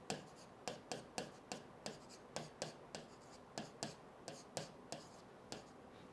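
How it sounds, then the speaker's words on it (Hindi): Pen scratching quick strokes on paper, a rapid series of short regular marks about every third of a second, close and quiet with no voices. "मैं लिख देता"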